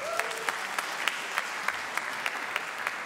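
At a Portuguese stand-up comedy show, the audience answers with a quiet patter of scattered hand claps, a few sharper individual claps standing out against the soft room noise.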